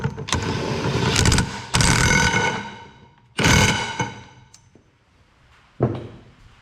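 A ratchet wrench tightens a nut on the piston of a two-post car lift's hydraulic cylinder, making loud close clicking bursts, then pauses and a few shorter ratcheting spurts.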